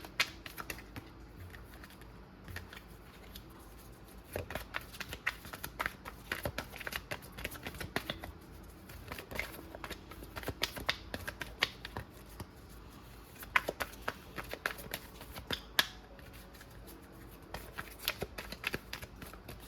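Steady, papery riffling of tarot cards being shuffled repeatedly, close and fairly quiet, with brief pauses between bursts of crisp flicks.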